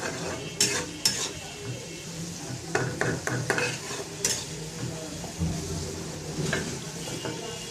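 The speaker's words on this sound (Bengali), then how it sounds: "মশলাটা কষানো, মশলাটা ভালো করে কষানো হয়েছে" Spice paste with dried bamboo-leaf fish sizzles in a pan while a spoon scrapes and knocks through it in irregular strokes, a constant frying hiss underneath, close and clear with no speech.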